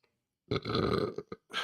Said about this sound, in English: Sorry, I got a burp.